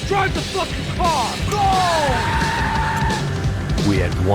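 In the video game Max Payne 3, a car speeds off with tires skidding and squealing under loud shouted voices, with engine noise and yelling filling the scene.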